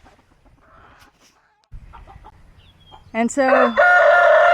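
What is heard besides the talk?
chickens clucking and crowing at the chicken coop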